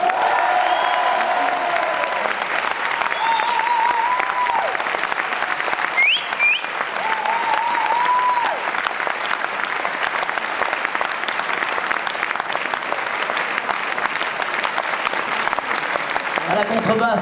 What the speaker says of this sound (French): Je vous demanderai d'applaudir très chaleureusement Jean-Marie Tréat.